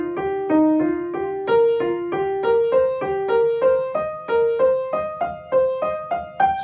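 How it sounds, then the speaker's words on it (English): Funk lick built on a repeated pentatonic scale, played as a steady run of plucked, clearly separated notes climbing and cycling in a loose pattern, close and moderately loud with no talking. "just repeat the pentatonic scale like this"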